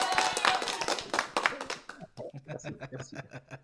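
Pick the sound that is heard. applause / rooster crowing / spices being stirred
applause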